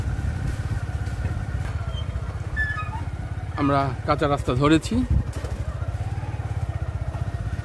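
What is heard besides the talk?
motorcycle riding on a dirt road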